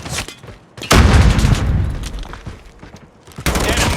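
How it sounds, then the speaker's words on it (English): A grenade blast and bursts of rapid gunfire in the Call of Duty Mobile video game: loud booming explosions and dense, close volleys of shots that start and stop abruptly. "Grenade out!"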